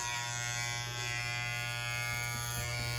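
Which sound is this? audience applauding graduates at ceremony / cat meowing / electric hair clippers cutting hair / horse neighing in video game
electric hair clippers cutting hair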